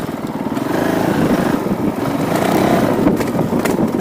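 Honda CRF450L motorcycle engine revving steadily while being ridden, a continuous loud, rough mid-pitched drone with slight surges in pitch, no talk over it.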